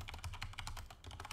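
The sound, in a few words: computer keyboard key press and mouse click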